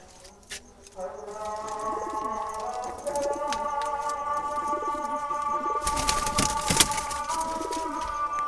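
Jalali pigeons cooing in repeated low, throaty calls, close by, with a brief noisy burst of rustling partway through.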